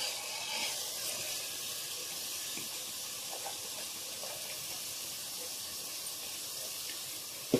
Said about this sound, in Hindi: अब इसको भी अच्छे से भून लेंगे।